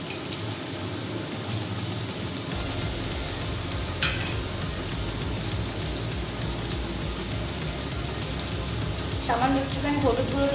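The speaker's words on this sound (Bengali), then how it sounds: "এবার আমি যে আলুগুলো কেটেছিলাম পনিরের জন্য সেগুলোকে একটু ভেজে নেব" Cut potatoes fry in hot oil in a wok for a vegetarian aloo paneer dish, crackling in a dense, continuous sizzle with occasional stirring scrapes and clinks.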